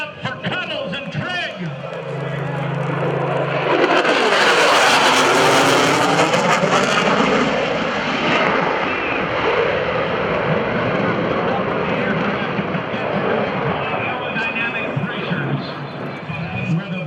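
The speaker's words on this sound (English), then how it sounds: "With raw jet fuel being poured into the exhaust of the F-A-18 Super Hornet's engine" An F/A-18F Super Hornet roars past with afterburner at an airshow, a loud sustained rumbling blast that swells and lingers, with voices talking underneath.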